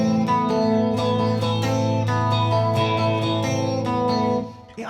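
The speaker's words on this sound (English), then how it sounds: "This is the flanger sound." An electric guitar runs through a flanger pedal, strummed chords and picked notes with a sweeping, jangly modulation, loud and continuous before a brief drop at the end, no talk.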